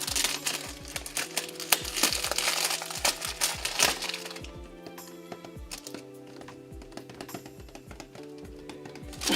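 Packaging of an Ariana Grande Sweet Like Candy perfume is opened with dense, close crinkling and crackling for about four seconds, then lighter scattered rustles and taps.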